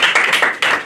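An audience at a stand-up comedy show claps in a short, scattered burst of hand claps, loud and close, with no speech over it.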